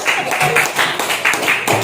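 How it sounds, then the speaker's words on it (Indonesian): A classroom of students claps for a group that has just presented, a short burst of dense, fairly loud applause in a room. "kita kasih tepuk tangan"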